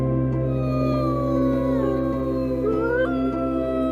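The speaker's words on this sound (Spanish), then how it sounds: "Hay un sonido especial que resuena cada tarde, el aullido del lobo gris" A gray wolf howls in a snowy Alaskan forest, long wavering tones rising and falling over several seconds, clear and sustained against a low steady background.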